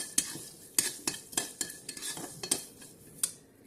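Grated coconut is slowly stirred and roasted in a pan. A utensil scrapes and taps against the metal in repeated quick strokes, close and quiet, over a faint sizzle.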